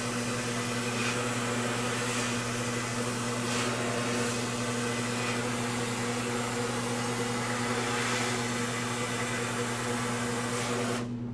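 A vapor blasting machine running at around 60 PSI: a loud, steady mechanical hum with a strong low drone and hissing spray, continuous for about eleven seconds before cutting off at the end.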